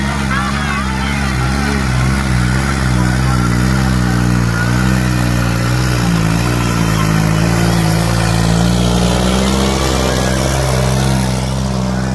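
A tractor engine chugs loudly and steadily nearby at a village tractor disc-harrow contest in Samana, its low rhythmic throb wavering slightly in pitch as it idles and revs.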